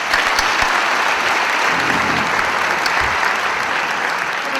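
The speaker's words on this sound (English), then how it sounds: "I think we must give Cindy a round of applause" A conference audience at a 2008 business forum gives a steady, dense round of applause, loud and sustained throughout without a break.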